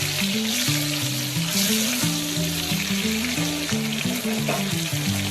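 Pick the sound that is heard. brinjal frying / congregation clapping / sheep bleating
brinjal frying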